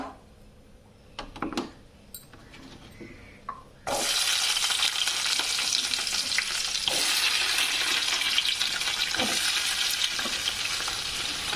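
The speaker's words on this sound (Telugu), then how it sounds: "ఇదిగండి నూనె కాగిన తర్వాత తిరమాత గింజలు అవి వేసుకొని" Tempering seeds drop into hot oil for a curry. After a few quiet clinks and handling noises, a loud sizzle bursts in suddenly and keeps crackling steadily and close for the rest of the clip.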